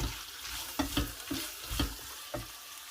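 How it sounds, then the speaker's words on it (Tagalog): Fried rice with carrots sizzling in a pan while a utensil stirs and scrapes in repeated bursts over a steady frying hiss, close and fairly quiet, no talking. "So I'm cooking fried rice now"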